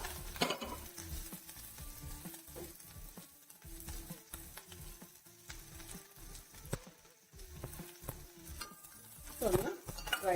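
Chopped shallots, ginger and green chilli sizzle in a hot pan for a bitter gourd dish, with a steady frying hiss broken by repeated scraping of a spoon as they are stirred, and no voices.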